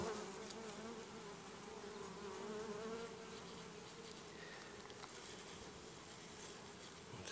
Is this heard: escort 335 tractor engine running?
no